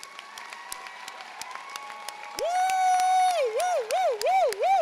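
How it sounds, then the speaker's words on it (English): Applause from a high school graduation audience: steady clapping for a couple of seconds, then a loud voice whooping repeatedly over the crowd. "let's give them one more round of applause"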